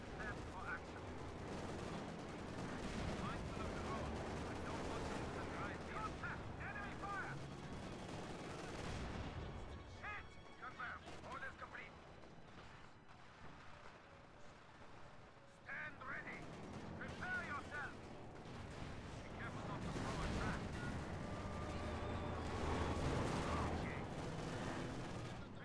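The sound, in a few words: gunshots in a video game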